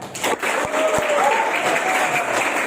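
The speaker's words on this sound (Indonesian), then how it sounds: "Dan mari kita tepuk tangan untuk Sandra." Steady applause from a school audience at an Indonesian-language project week, a continuous wash of clapping with a few sharper individual claps near the start.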